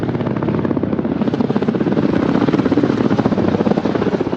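A Soviet combat helicopter, Mi-28 or Ka-50, flies close overhead, its rotor blades thudding in a loud, fast, steady beat.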